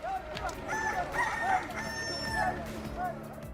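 A rooster crows repeatedly in long, rising and falling calls, with other fowl clucking around it, over a steady outdoor background at moderate distance.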